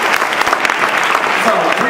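A meeting audience breaks into steady, dense applause that fills the whole stretch at close range, with voices mixed into the clapping.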